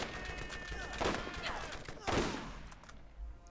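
Gunfire from newly acquired weapons in Borderlands: two loud bursts about a second apart over a steady game background, quieter toward the end, with someone talking over it.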